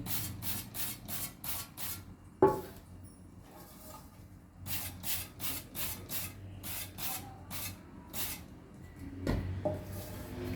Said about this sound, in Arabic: هرش بقى الصواني كده عشان ما الكحكه ما تلزقش فيه.